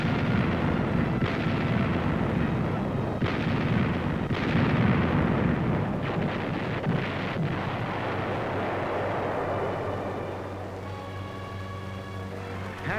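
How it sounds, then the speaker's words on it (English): Heavy naval guns of a wartime fleet bombard shore strongholds, a continuous roar of deep booming blasts that slowly fades, with a thinner ringing tone near the end. "the big guns of the fleet smashed enemy strongholds miles away."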